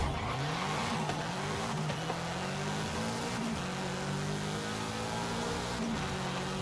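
A Subaru WRX lapping a race track in a driving video game, engine droning steadily with pitch rising and falling through gear changes and corners, loud and unbroken with no voices.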